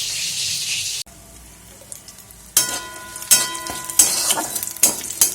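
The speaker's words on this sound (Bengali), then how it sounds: "এবার কড়াইয়ে ফোড়ন দিয়েছি" Whole spices (garam masala, cumin, bay leaf, chilli) tempering in hot oil in a wok, a loud close sizzle that flares in repeated bursts after a quieter opening, with no talk.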